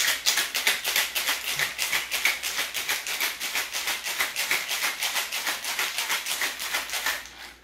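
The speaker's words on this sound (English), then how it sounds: "You're gonna shake it until it's nice and chilled," A cocktail shaker packed with ice is shaken hard for a chill, giving a fast, even rattle of close, bright clinks that runs steadily for several seconds before stopping.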